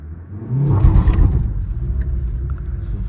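Maruti Suzuki Swift CNG engine revs briefly with traction control off, a near, loud rising rumble that peaks after half a second and then settles into a steady lower engine hum.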